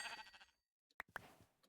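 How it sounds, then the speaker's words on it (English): Sheep in the Minecraft video game bleat twice in quick succession, sharp and fairly close, after a burst of other game noise and a brief silence, with a faint third call trailing off. "Where is the sheep? I hear him."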